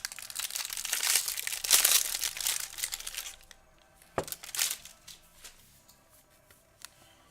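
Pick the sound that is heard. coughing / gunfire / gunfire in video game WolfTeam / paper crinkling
paper crinkling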